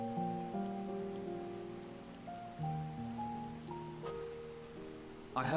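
Steady rain falls in Final Fantasy XIV Endwalker, a soft constant patter beneath louder sustained musical tones, with a brief swell near the end.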